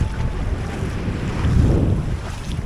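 A passenger boat's engine runs steadily at a shore landing in Masbate City, Philippines, a low continuous rumble mixed with heavy wind buffeting and nearby water, with no talking.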